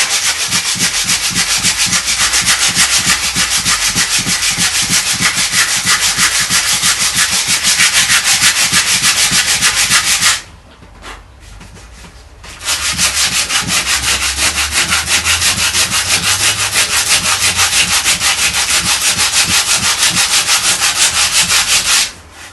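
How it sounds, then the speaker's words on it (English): Pallet wood is sanded by hand with sandpaper, a loud close rasping rub in fast, steady back-and-forth strokes that stops for about two seconds midway and then continues, with no talking. "Just come across it with sandpaper."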